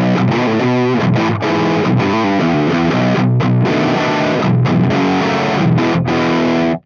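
Heavily distorted electric guitar chords and riffs through an amp with the graphic EQ off and the bass, mid and treble controls all set to noon, loud, dense and continuous, with a dark, muffled tone.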